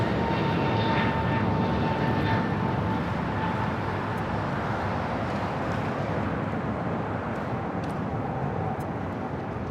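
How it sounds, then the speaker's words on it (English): An Airbus A380 takes off from runway 25 left at LAX, its jet engines giving a loud, steady broadband roar that holds for the whole stretch with a faint tonal whine above. "this A380 Super will be taken off at 25 left in the noon hour."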